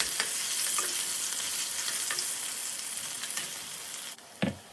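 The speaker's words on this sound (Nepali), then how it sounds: "अब म यसमा प्याज राखेर प्याजलाई मजाले फ्राई गर्दैछु" Steady, close sizzling of onions frying in a pan for a pumpkin-shoot curry, with a few stirring scrapes and a brief clatter near the end.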